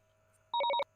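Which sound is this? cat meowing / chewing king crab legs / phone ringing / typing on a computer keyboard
phone ringing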